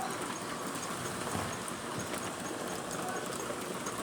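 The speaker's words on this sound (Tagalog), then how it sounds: "Ayun po guys, umuulan. Umuulan na naman." Steady broadband hiss of rain falling, continuous and even throughout, with no clear drops standing out.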